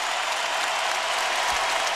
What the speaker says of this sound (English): And then listen to the crowd respond to Kendall Marshall